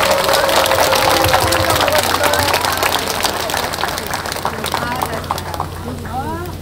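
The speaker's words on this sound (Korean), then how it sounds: "큰 박수로 환영해 주십시오" Crowd applause welcoming a speaker at an outdoor rally in heavy rain, a steady wash of clapping and crowd noise that gradually thins, with a voice rising briefly near the end.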